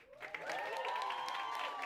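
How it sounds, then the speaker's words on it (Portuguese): A crowd at a band performance applauds a performer, brisk clapping swelling in after a quick start, with a sustained sung or tonal voice ringing over it. "Palmas a ela."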